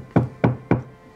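Three firm, evenly spaced knocks on a surface, close and clear with no voices.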